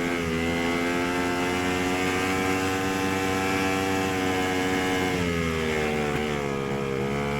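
A vintage one-cylinder Scorpion snowmobile races in a One Lunger vintage event, its single-cylinder engine chugging steadily and close, with a brief dip in pitch near the end.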